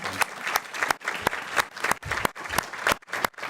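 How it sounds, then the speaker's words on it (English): Audience at a school board meeting gives a round of applause for an honoree, sparse, distinct claps in an uneven rhythm, fairly close and moderate in level. "so we can give you a rousing round of applause?"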